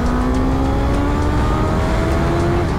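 Suzuki GSX-S GT motorcycle engine humming loud and close under way, a steady droning note that climbs slowly in pitch as the bike gathers speed, with no voices over it.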